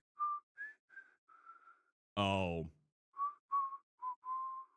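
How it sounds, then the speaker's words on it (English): A video game character whistles a short tune of several bright, clean notes, broken by a loud burst of sound in the middle, with a brief spoken exclamation. "we know who's whistling. That's whistling."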